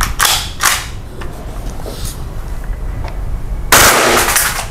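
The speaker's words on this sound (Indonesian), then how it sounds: "Jadi ketika nembak langsung burst." Gun fired in bursts at a shooting target, with a few sharp cracks and mechanical clicks and rattles between them, then a loud sustained burst at the end, close by.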